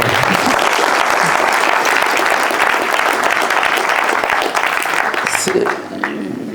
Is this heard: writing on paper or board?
no